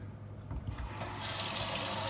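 Hot water running from a tap into a sink for washing dreadlocks, a steady close splashing stream that starts softly and then swells to a full, even rush.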